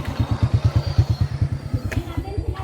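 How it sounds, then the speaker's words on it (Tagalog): A motorcycle engine chugs close by in a steady, rapid pulsing rhythm on an uphill trail near Boracay, with a brief sharp clatter near the end. "May motor dito."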